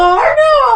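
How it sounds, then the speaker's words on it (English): A dog gives a loud, close yelp that rises into a short wavering howl, heard alone with no talk. "Enraged, Sir Charles drew his sword and slew the dog upon the spot."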